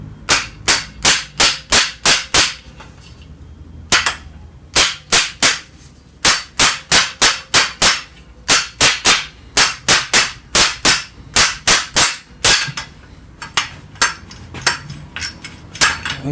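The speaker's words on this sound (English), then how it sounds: "Hammer time, I think." Parts being hammered off a lowrider bike during a restoration: loud, close metallic blows in quick bursts of four to seven strikes with short pauses between them, and no talk.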